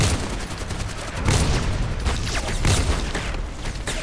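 Rapid automatic gunfire rattles through the online shooter Contract Wars, loud dense bursts of shots and impacts packed together with no break, heard alone without talk.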